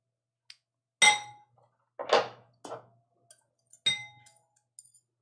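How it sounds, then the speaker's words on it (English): A whisk clinks against the side of a bowl while mixing a thick, creamy peanut butter dipping sauce for summer rolls, a few sharp, close metallic taps in irregular bursts separated by quiet gaps. "what we're going to do is whisk this together"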